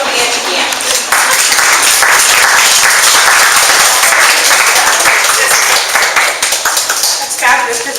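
Loud, dense applause from an audience welcoming a presenter at a Successful Thinkers gathering in Placerville, sustained for several seconds and then thinning out near the end.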